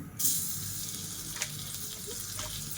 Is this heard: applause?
no